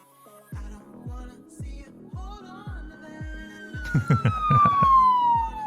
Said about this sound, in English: Missing the sirens